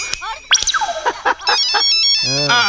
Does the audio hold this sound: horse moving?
no